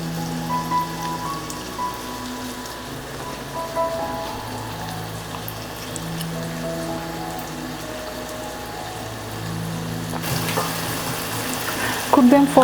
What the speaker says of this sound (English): just saute them until they are transparent